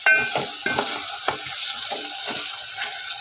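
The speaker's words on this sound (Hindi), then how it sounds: "टमाटर को अच्छे से मैश कर लो" Tomatoes with spices are mashed in a cooking pan for whole masoor dal, with a busy, close run of scraping, stirring and wet sizzling strokes throughout.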